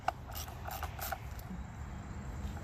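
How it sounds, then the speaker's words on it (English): A ratchet tightens a 10mm bolt on the ignition coil cover of a 2021 Hyundai Santa Fe 2.5L, giving a few quick, soft clicking bursts close by over a low hum, with no talking. "Tighten a 10mm bolt."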